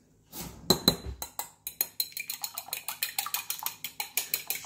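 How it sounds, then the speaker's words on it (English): A fork beats three eggs in a bowl for sourdough challah, making quick, regular clinking taps against the bowl that start off uneven and then settle into a steady rhythm. "Just go ahead and mix these up really good."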